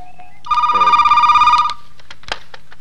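A telephone rings alone in a quiet room, one sustained electronic ring burst lasting about a second, close and clear, followed by a short click as the receiver is picked up.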